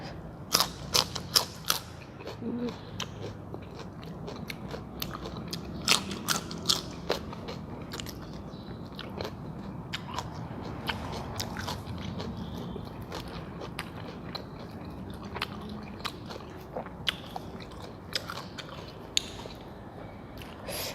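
Someone eats crunchy snacks, crispy fried peanuts and pork cracklings with stir-fried canned-fish chili paste, close to the mic; sharp, irregular crunching bites and chewing crackles repeat throughout without talk.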